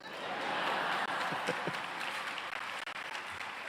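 Steady applause from a commencement audience at Emory University, a broad wash of clapping hands that holds at an even level throughout.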